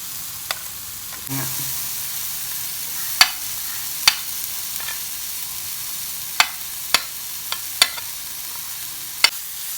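Ripe banana sautéing in ghee in a pan while being stirred: a steady soft sizzle runs throughout, broken by sharp, irregular clicks and scrapes of the spoon against the pan.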